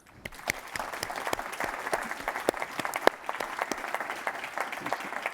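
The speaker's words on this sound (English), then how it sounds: "So let's give our panel a round of applause." An audience at a Georgia Chamber energy and sustainability event applauds a panel, the dense clapping rising quickly, holding steady and fairly loud for several seconds.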